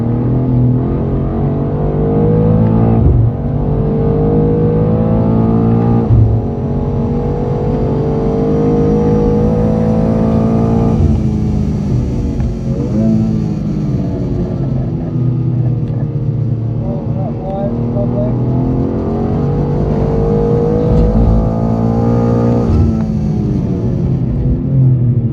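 A 600HP BMW G87 M2 lapping the Brands Hatch circuit, its engine droning loud and close with rising and falling revs and gear changes throughout, while people talk inside the car.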